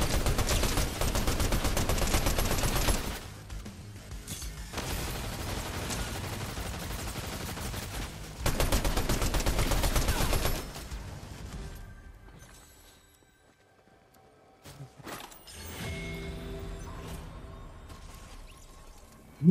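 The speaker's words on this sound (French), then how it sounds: "On nous tire dessus." Bursts of automatic gunfire in Fortnite, with heavy sustained volleys and then quieter, scattered shots and impacts after a lull.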